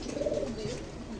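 A pigeon coos softly nearby, a short low murmuring call that is faint against quiet background noise.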